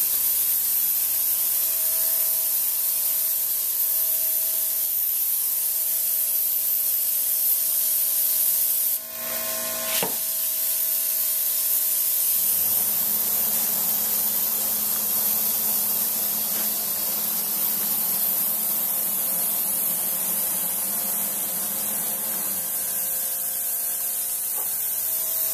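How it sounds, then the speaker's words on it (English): A steady, loud hiss of black spray paint being applied into sandblasted lettering on a monument stone continues for a long stretch, with a brief pause partway through before the spraying resumes. "He is spraying a black paint in the letters after it's been"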